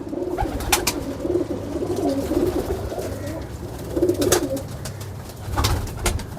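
Pigeons of a pure Kamagar Teddy breed coo in several low, throaty rolling bursts, close by, with faint rustling and chirps around them and no talking.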